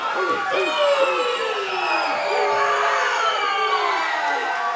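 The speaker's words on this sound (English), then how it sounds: "this crowd is going nuts" A wrestling show crowd cheers wildly after a pinfall win, with loud screams, whoops and shouting voices swelling together and sustained over several seconds.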